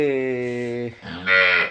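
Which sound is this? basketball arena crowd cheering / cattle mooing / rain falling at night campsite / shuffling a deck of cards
cattle mooing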